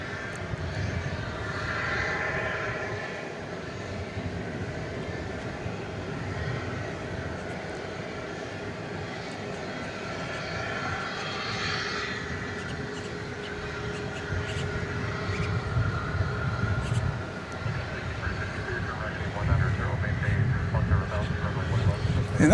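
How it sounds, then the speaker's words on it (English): An American Airlines Airbus A321neo takes off at night from DFW Airport's west-side runways, its distant jet roar swelling and broadening steadily as the plane powers away, with a voice talking over much of it. "And that was American Flight 395 off to Anchorage, Alaska on that Airbus A321neo."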